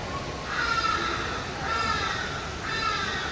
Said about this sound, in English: Look at these beautiful birds.